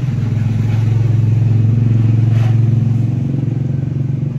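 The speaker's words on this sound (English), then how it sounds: "There's one of those noisy motorbikes going past." A loud motorbike engine passing near a shopping mall, a steady throbbing drone that stays close and prominent the whole time with no voices over it.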